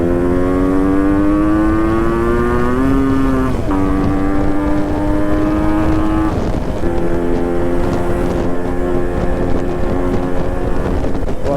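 A Yamaha RX 135 two-stroke motorcycle engine warms up at speed, a loud, steady, close whine with a humming tone that rises and shifts pitch several times, while wind buffets the microphone.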